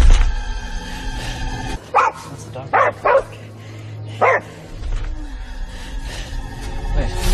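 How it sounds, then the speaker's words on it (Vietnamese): A dog barks four sharp times in a quick irregular burst, close by, amid background rumble and sound effects. "Con chó làm gì vậy?"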